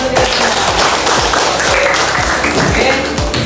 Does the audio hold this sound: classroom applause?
yes